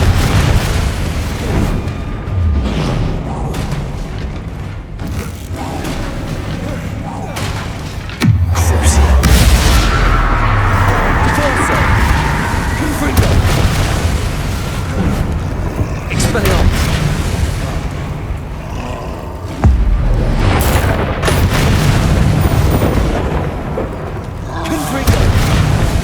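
Confringo fire spells exploding in Hogwarts Legacy, a run of loud booming blasts with heavy low rumble, several strong bursts near 8 and 20 seconds, mixed with dense battle effects and a voice calling out spell names.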